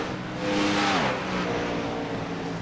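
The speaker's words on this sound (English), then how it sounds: "We got to make sure we have that great engine noises." A NASCAR Car of Tomorrow's V8 engine in iRacing at Kentucky drones loudly and steadily, its pitch rising and then dropping as it shifts gears. A rushing track noise sits beneath it.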